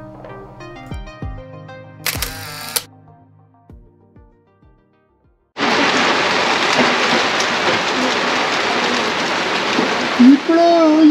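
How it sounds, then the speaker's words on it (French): Heavy rain begins abruptly after quieter sounds, then a loud, dense, steady hiss of rainfall on a surface continues for several seconds, close and constant. "Il pleut, il pleut."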